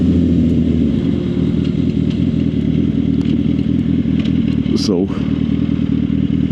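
A Suzuki GSX-R 750 engine drones steadily while being ridden on the road, loud and close with wind noise, and a rider talks over it.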